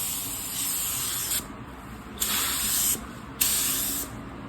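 A second coverage coat of paint is sprayed onto a car bumper in three steady hissing bursts with short pauses between them. The sound is close and loud, with no talk.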